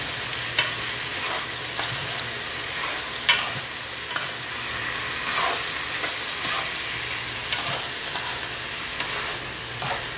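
Bitter gourd (ampalaya) sizzles steadily in a pan with frequent soft scraping stirs, a low continuous frying hiss with no one speaking.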